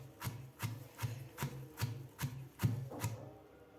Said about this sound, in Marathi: आता या आपल्याला थोडेसे जाडसर कुटून घ्यायचे आहेत